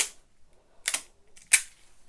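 Adhesive tape is pulled and pressed down onto paper in a craft project with a cactus stamp kit, giving two short, sharp ripping bursts separated by near silence.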